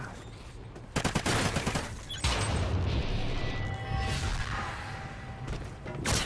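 Gunfire in the multiplayer shooter Call of Duty: Ghosts: bursts of shots start about a second in and continue through a loud, busy firefight, with other game noises mixed in.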